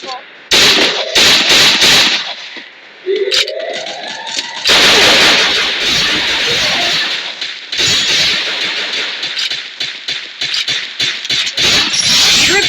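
Rapid gunfire from the mobile shooter game Free Fire crackles in loud bursts and sustained volleys, with short gaps between shots and a brief voice in the mix.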